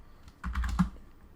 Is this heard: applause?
no